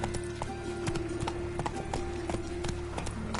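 Roach, the horse in The Witcher 3 video game, gallops with a steady, close run of clip-clop hoofbeats that carries through the whole stretch without a break.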